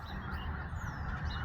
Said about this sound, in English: You can see our geese we got next door.